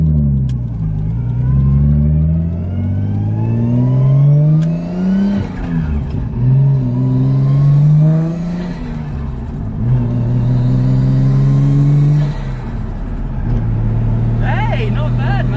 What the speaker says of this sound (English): Good turbo noises.